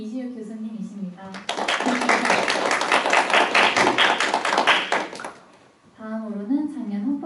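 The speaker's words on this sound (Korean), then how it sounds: "다들 감사의 박수로 맞아주시기 바랍니다" Audience applause welcoming the judges at a university mock constitutional trial, a dense burst of clapping lasting about four seconds. Someone speaks into a microphone just before it begins and again right after it fades.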